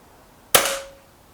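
A single sharp crack from a Hatsan AT44-10 air rifle firing a shot, close and loud, with a quick decaying ring afterward.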